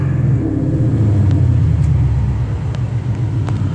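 A 2015 Ford Mustang GT Premium with a 5.0 Coyote V8 rumbles loudly and deeply up close, its engine note heavy and continuous throughout with no talking.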